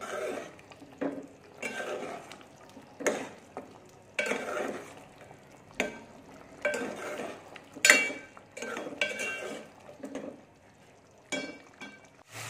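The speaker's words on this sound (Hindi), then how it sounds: "हम इसमें टमाटर जो है वो अब इसमें भून लेंगे अच्छे से" Tomatoes frying in a pot with tender cooked mutton for chana dal gosht, heard as a steady sizzle broken by repeated scraping stirs and clinks of a spoon against the pan, close up and without speech.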